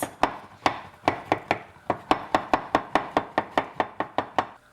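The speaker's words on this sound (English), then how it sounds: "I'm going to take the pulp and just basically cut it with the knife" A knife chops lemon pulp into small pieces on a cutting board: about seventeen crisp, even strikes in a steady, quick rhythm, close and distinct, with no voices.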